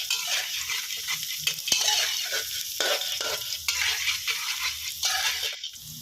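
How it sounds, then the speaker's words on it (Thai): Garlic fries in a pan while a utensil stirs it: a steady close sizzle with scraping strokes and a few light metallic clinks, no talking. "ครับเจียวไปเรื่อย ๆนะครับให้หอมนะครับ"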